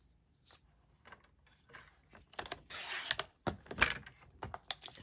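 Card stock for a handmade card is cut to size on a trimmer: a few quiet scraping, sliding cuts and clicks close by in a hushed room, with no talking.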